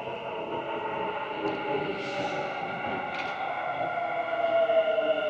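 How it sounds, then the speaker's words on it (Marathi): A metro train in Dubai rumbles steadily with a sustained metallic hum and squeal, growing slightly louder toward the end as it pulls in, heard from fairly close. "आपली मेट्रो पण आलेली आहे"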